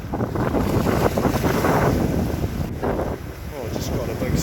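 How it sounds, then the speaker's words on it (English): Ocean waves surge and splash against a rock ledge at a fishing spot, loud and close, mixed with heavy wind buffeting and a brief voice. "Oh, just got a big splash there."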